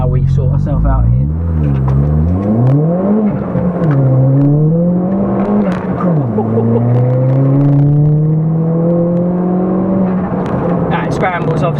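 Ford Fiesta ST with a stage 4 Revo tune and turbo pulling hard away from a junction, engine note climbing through the revs, dropping at a gearchange and rising again, loud and close throughout.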